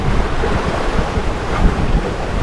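Ocean waves slap and wash against a sailboat's bow under strong wind, giving a loud, continuous rushing roar with heavy wind buffeting on the microphone.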